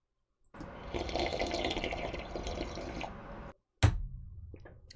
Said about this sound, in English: I'm gonna slurp this as loud as I possibly can into the mic.